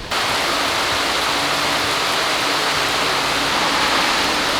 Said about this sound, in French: Ah, la pluie est frette!